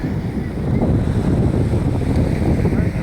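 Beach ambience with steady rushing wind buffeting the microphone and the low wash of surf, loud and unbroken throughout, with no clear voices.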